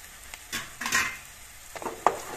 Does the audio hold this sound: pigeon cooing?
no